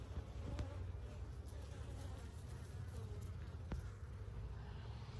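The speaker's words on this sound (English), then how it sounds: "I gotta get these bees off of me." Honeybees buzz steadily around a beehive frame, a close, continuous low drone that persists throughout, with occasional brief clicks and no talk.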